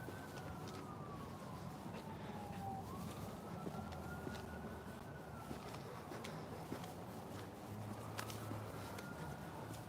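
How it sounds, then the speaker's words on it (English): A distant police siren wails through steady background noise, its tone falling, then rising and sweeping slowly across the whole stretch, faint and unbroken with no talking. "What's gonna happen with the siren next?"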